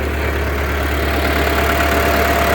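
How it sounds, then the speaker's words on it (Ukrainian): A small tractor engine drives a branch chipper with a steady, loud, low droning rumble and even mechanical hum, running continuously with no voices. "Тракторець робить гарно."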